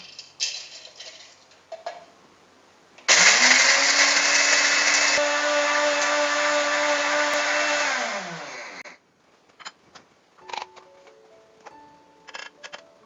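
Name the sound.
blender grinding dried Chinese yam into flour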